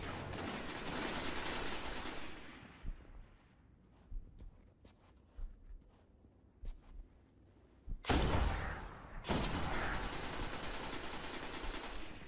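Sniper rifle fire from an icebreaker in a Destiny 3v3 skirmish match, with sharp game gunshot blasts and bursts amid busy combat effects, loud and close.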